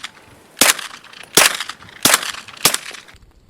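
Four suppressed gunshots from a Glock 23 fitted with a 9mm conversion barrel and an Octane 9 HD suppressor, evenly spaced sharp cracks at roughly 0.7-second intervals, close and loud, with no talking.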